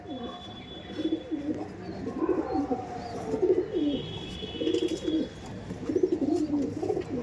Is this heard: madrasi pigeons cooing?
yes